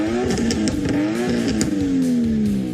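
A Nissan Skyline R33 engine revs repeatedly, its pitch rising and falling in loud, close, sustained bursts with no talking over it.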